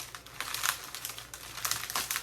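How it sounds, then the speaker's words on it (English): A plastic zip tie being pulled tight around a spring wreath, close-up crinkly ratcheting and rustling in short bursts, with no one talking. "you want that zip tie to grab, and you just want to tighten it as much as you can"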